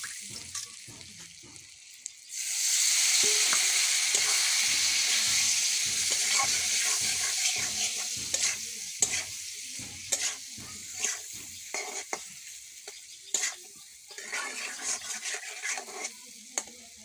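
Potatoes drop into hot oil and fry with a sudden loud sizzle that then holds steady, broken by repeated scraping and stirring knocks of a spatula in the pan.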